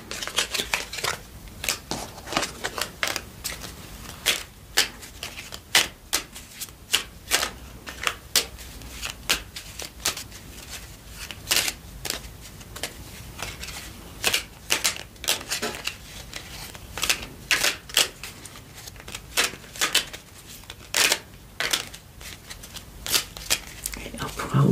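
Oracle cards are shuffled by hand in a quiet ASMR setting, making repeated crisp riffling and flicking bursts in irregular clusters, close and clear throughout.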